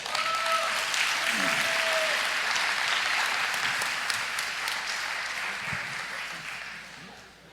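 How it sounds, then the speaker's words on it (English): An audience at a vision banquet applauds warmly and steadily, a thick wash of clapping that holds for several seconds before slowly fading, with faint voices mixed in. "Let's give him a round of applause."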